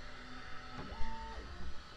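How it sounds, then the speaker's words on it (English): A Bambu X1 Carbon 3D printer homes its print head, giving brief whining stepper-motor tones that rise and shift in pitch as the carriage moves, with a soft thump, over the steady hum of the running machine. "homing the print head."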